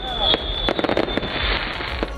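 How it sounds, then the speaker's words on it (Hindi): New Year fireworks in Pakistan crackle and pop in rapid bursts, a dense run of sharp bangs over a busy background with crowd noise. "शहर शहर आतिशबाजी की गई।"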